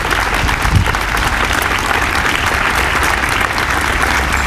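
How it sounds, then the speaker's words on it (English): Loud sustained applause from an audience at a Fallen Heroes Foundation event honoring volunteer quilters, steady crowd clapping with a few deeper thumps close by. "So they definitely deserve a round of applause."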